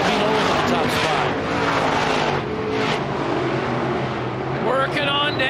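IMCA dirt track race cars at Cocopah Speedway roaring down the front straightaway, a loud continuous engine drone under an announcer's steady commentary throughout.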